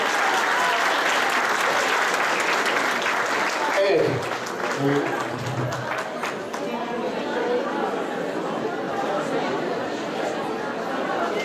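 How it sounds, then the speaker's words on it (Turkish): Strong applause from an audience in a hall at a women's honorary award ceremony, a dense loud wash of clapping for several seconds with voices and chatter mixed in, continuing steadily to the end. "Kuvvetli bir alkış istiyorum"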